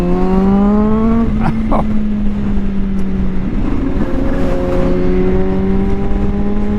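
A 2023 Kawasaki Z H2 supercharged motorcycle under acceleration on a ride, its engine note climbing steadily through the gears with a shift-like step partway through and loud wind rush throughout, close to the rider.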